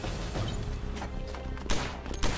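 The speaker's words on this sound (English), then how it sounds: "Now, use that weapon to shoot some targets." Sidearm shots fired at targets in a first-person video game, a steady clatter of loud gunfire with sharper bursts near the end, all close and in the foreground.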